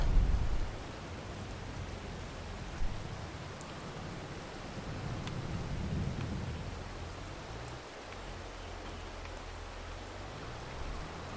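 Steady video game rain hiss with low rumbling beneath, a thunder-like swell around the middle, continuous and moderately loud without any voices.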